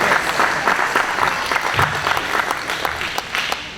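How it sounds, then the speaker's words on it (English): Applause from an audience at a YMCA event, a steady wash of clapping that runs the whole stretch, fairly loud and dense with a few sharper claps standing out. "Sue Sherman wants you to applaud, so you should."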